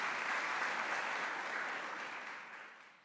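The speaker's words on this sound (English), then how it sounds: "Can you do just a round of applause for that accomplishment?" A faint, distant round of applause from an audience at a memorial celebration for Patsy Takemoto Mink, a steady wash of clapping that fades out toward the end.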